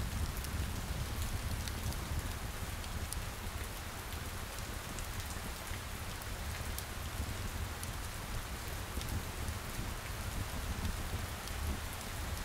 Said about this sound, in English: as it rains outside